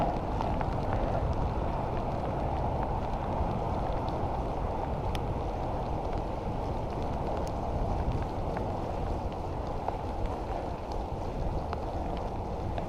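Rain falls steadily during a motorcycle ride on a bike fitted with fenders, a constant close wash of hiss and rumble with wind noise and no talk.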